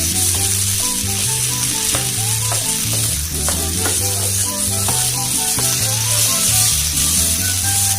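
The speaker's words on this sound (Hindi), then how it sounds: "मीडियम फ्लेम पे इसको अच्छे से फ्राई करते जाएंगे।" Potato pieces frying for dosa filling in a pan over a medium flame, a loud steady sizzle with intermittent scraping and stirring clinks throughout, no talk.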